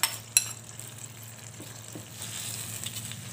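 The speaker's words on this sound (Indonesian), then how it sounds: "Kita masukkan yaitu ikan layurnya yang telah kita goreng." Fried cutlassfish pieces drop into a pan of turmeric-yellow spiced sauce, with a couple of sharp clinks up front followed by soft, continuous sizzling and light stirring scrapes.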